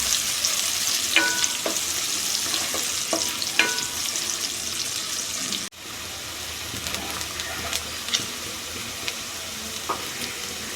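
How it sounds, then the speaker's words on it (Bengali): Chopped onion stirred and fried in a pan for a chicken sausage curry, a dense loud sizzle with clattering spatula strokes, a brief dip midway, then steady frying resumes without talk. "খুব ভালো করে পেঁয়াজটা এবার নেড়ে দেব। পেঁয়াজটা আমি লাল লাল করে ভেজে নেব।"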